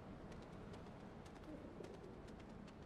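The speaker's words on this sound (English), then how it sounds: "And if I startle the bird, it'll drop the spider bot and break it." A pigeon cooing in a Spider-Man video game, soft repeated low coos over a faint ambient bed, quiet and without speech.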